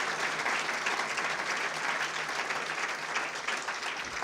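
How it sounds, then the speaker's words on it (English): Steady, dense applause from a crowd at a civic state-of-the-region event with city council members present, filling the whole stretch evenly without any talk. "Give them a big round of applause."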